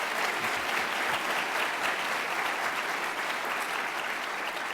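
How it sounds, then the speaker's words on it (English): Sustained applause from the audience at the annual Haydn Williams WWII Memorial Legacy Lecture honors the speaker, a dense, steady wash of many hands clapping at an even level for the whole stretch, with no voices rising above it. "Another round of applause for our Thanks. speaker."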